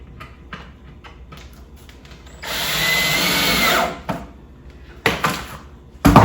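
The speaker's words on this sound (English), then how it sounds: "let's go ahead and put a couple more screws on this here. Attaching all the 3/4 inch wood together." A power drill drives screws into 3/4 inch wood while a swarm trap box is assembled: a sustained whir of about a second and a half, then two short bursts, loud and close with no talking.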